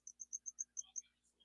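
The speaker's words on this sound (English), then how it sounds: "you hear those crickets?" Crickets inside a tarantula enclosure give a quick run of about seven bright, evenly spaced chirps, then a few softer, uneven trills, close and clear over a low, quiet hum.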